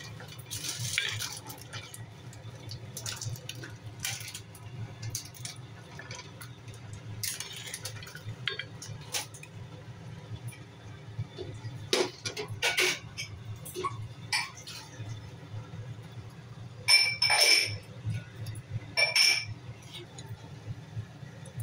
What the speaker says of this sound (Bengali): ভালো করে নেড়ে দিচ্ছি